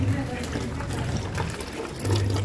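Water pouring steadily and splashing down among hanging petunias in a home garden, a continuous loud close rush with a faint hum, as someone talks over it.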